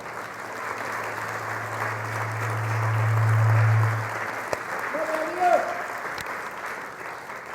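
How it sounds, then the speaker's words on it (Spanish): Church congregation applauding in praise during a Spanish-language service, a broad steady clapping wash under a low sustained tone, with a voice and an instrument note briefly surfacing later. "Dale un fuerte aplauso al Señor en alabanza."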